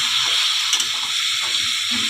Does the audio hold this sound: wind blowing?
no